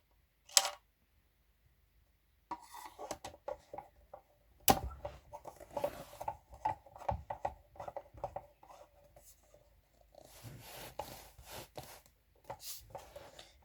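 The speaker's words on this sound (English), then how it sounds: "now we can chuck the screws back in" Screws go back one by one into a Sony SS-CT400 speaker cabinet, with a sharp click, then scattered light scraping, taps and turning sounds, then a denser burst of rubbing near the end, all close and quiet.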